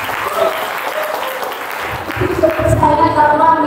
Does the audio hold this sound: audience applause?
yes